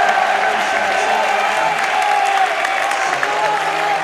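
A basketball crowd at a high school game between Salesianum and St. Andrew's cheers and applauds steadily, a dense, loud roar of clapping and voices with no break throughout.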